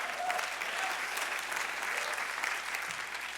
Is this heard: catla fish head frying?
no